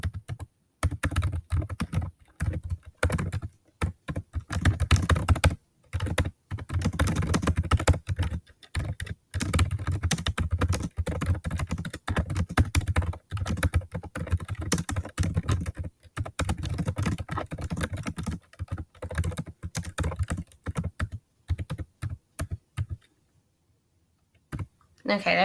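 Rapid computer keyboard typing during a Nitro Type online typing race, a steady, close clatter of keystrokes running almost continuously with brief pauses, while a person talks intermittently over it.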